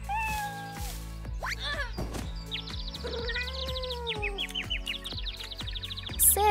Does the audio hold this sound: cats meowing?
yes